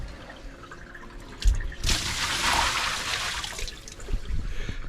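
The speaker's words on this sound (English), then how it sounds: "I dip it in like this. And then toss. And that's how the backyard gets rinsed." A bucket of water is tossed across a boat's rear deck to rinse it during an anchorage on a river, a single loud splash and wash lasting about two seconds, then fading into quieter drips and trickles.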